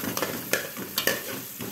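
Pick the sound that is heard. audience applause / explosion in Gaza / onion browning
onion browning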